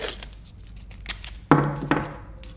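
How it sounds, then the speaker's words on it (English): Masking tape is torn and pressed onto a wooden puppet stick: a few faint clicks and rustles, then a sharp tearing strip and a second rip close by, with no speech. "We will take our stick and just use a little bit of tape on it."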